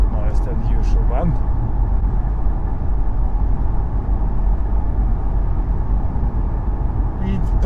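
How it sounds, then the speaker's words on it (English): Steady low road rumble and tyre roar fill the cabin of a Nissan Ariya Nismo electric crossover on the move, a constant drone with faint higher hiss on top and no speech. "there's a bit more road noise in here"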